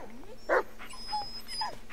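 A dog in the Blair Witch video game whimpers and yips faintly in short, thin whines, a brief louder yelp among soft cries, over low ambient game sound.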